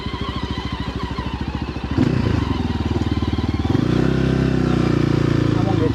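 Four-wheeler ATV engine running close by with a steady, throbbing idle that rises to a louder, fuller drone partway through, accompanied by voices talking.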